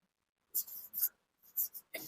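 Pen writing a maths solution by hand on paper, a few short scratchy strokes in separate bursts, close and faint in an otherwise quiet room.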